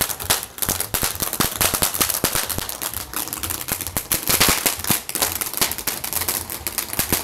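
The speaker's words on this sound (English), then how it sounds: "the fireworks" Fireworks at a 4th of July celebration, a dense rapid crackle of firecracker-like pops and bangs going off continuously and loudly, with no talking over them.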